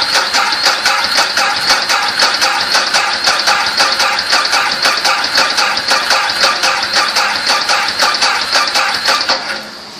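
An engine cranks over on power from an Antigravity Micro Start jump starter battery, a fast, even mechanical chugging that runs loud and steady for about ten seconds, then trails off.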